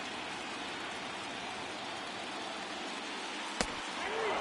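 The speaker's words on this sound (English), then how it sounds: "Rain, not always the most comfortable condition to pitch in." Steady rain falling during a baseball game in Franchise Stars, a continuous dense hiss at moderate level with one sharp crack near the end.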